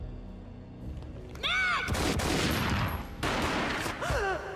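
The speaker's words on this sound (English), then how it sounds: "A gunshot boomed and she fell down in slow motion." Gunfire in the action shooter Max Payne: sharp booming shots and bursts of firing crash in over game sound effects, loud and close, with several overlapping impacts spread across the moment.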